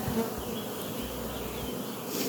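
Honeybees buzz steadily and fairly quietly around an open hive during a colony check, a continuous close, droning hum with no voices.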